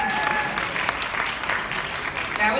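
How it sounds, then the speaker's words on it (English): Warm, sustained applause from an audience at a press conference in a downtown hotel ballroom. Steady, moderately loud clapping fills the clip, with a voice faintly heard through it. "That was weak. Can we get another round of applause for her?"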